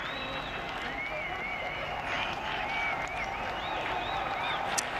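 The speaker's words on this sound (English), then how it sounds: "Grandstand. All chanting." A grandstand crowd at a MotoGP race in Qatar cheers and chants, a broad continuous roar with rising chant tones, loud and sustained throughout.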